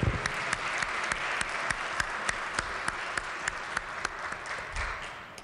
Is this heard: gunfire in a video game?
no